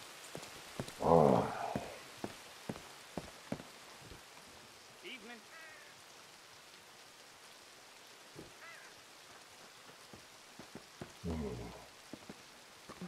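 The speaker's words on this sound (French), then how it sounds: "Et ben voilà qui pleut maintenant." Rain falling outdoors, a soft steady patter with scattered drops and gusts, while people speak now and then nearby.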